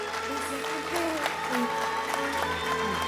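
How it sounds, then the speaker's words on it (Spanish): Steady applause from an audience fills the clip, a dense wash of clapping with some voices underneath. "el aplauso brota súper espontáneo del público"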